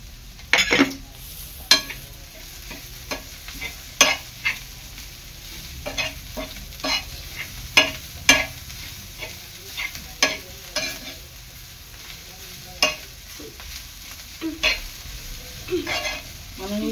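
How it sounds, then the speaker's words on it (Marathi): Dry bombil chutney roasts in a pan with a soft sizzle while a spoon stirs and scrapes against the metal in irregular, clattering strokes. "ही चटणी 1 ते 2 मिनिटं चांगली थोडीशी लालसर करून घ्यायची आहे"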